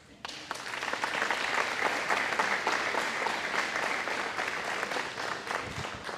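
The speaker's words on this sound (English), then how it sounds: "In formal events like this, when there's a pause, that's where the gratuitous clapping comes in." An audience at a formal event breaks into sustained applause, dense clapping that swells quickly and then holds steady, filling a large hall.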